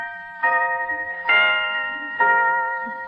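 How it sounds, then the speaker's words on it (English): A pocket watch chimes three evenly spaced, clear bell-like tones, each ringing out and slowly decaying before the next strikes, fairly loud with little else around. "Listen to it chime."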